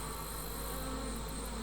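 Honeybees at an open top bar hive give a faint, steady buzzing hum, close and continuous, with no voices over it.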